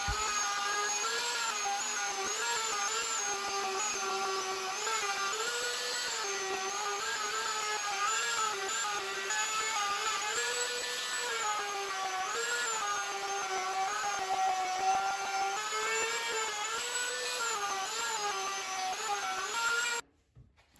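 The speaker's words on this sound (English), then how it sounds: "Here I'm drilling a pilot hole for my jigsaw, and then using a jigsaw to cut out the bulk of that" Power tool work on a DIY router table top, a pilot hole drilled and then a jigsaw cutting through the panel, heard as a steady buzzing motor whine with a wavering pitch that runs continuously before stopping abruptly at the end.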